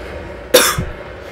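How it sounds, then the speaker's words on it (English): A single close cough from someone getting over a cold, one sharp burst followed by a brief lower rasp, heard alone against quiet background. "pardon my coughing"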